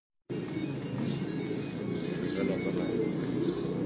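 Pigeons coo from a rooftop loft in Gujrat, soft repeated low coos with occasional chirps under a steady background hum, starting abruptly after a brief silence.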